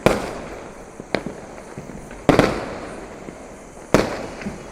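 Diwali firecrackers burst one after another outdoors, three loud sharp bangs each trailing off into crackling echo, with steady background noise between blasts and no talking.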